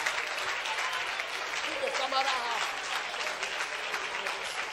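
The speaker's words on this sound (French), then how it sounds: "Clap your hand" A church congregation at a fasting and prayer service claps hands together in a dense, sustained wash of applause, loud and steady, with a voice speaking over it.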